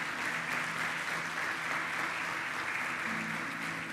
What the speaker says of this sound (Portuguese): Você pode aplaudir Ele para a honra e glória do Senhor.